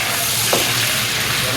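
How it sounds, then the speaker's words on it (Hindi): Chicken pieces hit a hot cooking pot with a loud, close, continuous sizzle and crackle of frying, filling the whole brief moment without talk. "अभी ये जाना गरम हो चुका है, इसमें डालते हैं चिकन।"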